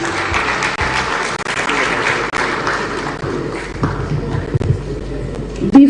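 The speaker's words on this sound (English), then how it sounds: "Another round of applause, please." A seated audience at a peace pact signing ceremony at the Kempinski hotel applauds. The clapping is fairly loud at first, thins gradually, and ends with a few scattered claps and some shuffling and thumps.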